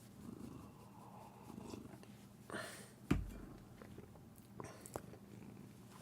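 A pet cat purrs in a steady low rumble close by, with brief rustles and a sharp thump partway through; no one talks over it.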